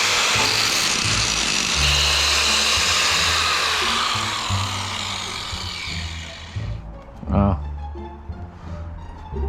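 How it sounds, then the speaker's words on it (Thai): An angle grinder runs loud and steady against a motorcycle exhaust pipe during a modification, with a whining, gritty tone that winds down near the end, followed by short clanks. "เรามีแผนสำรองก็คือหัวเจียนี่"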